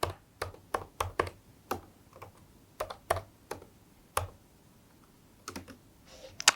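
Password typed on a computer keyboard: a quick sequence of sharp, close key clicks in irregular bursts with short pauses between groups, over a quiet background.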